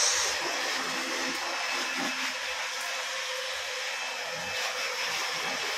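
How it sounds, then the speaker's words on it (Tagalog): A technician's air blower roars steadily as it clears debris at a work site, a loud, continuous broadband rush with no breaks. "Technician namin nag-blower para matanggal ang haliw"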